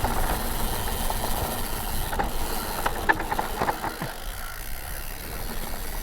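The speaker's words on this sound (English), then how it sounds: "It's descending really nice, this bike." A new mountain bike descends a steep, bone-dry trail near Scarhouse Reservoir, giving a steady close rumble of tyres and rattling drivetrain with a few sharp clicks and knocks from the frame along the way.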